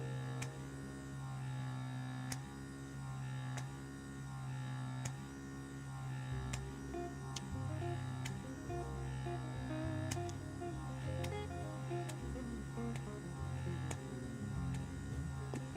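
A diamond microdermabrasion machine runs its suction motor, giving a steady, low electrical hum with faint periodic ticks throughout and no pauses.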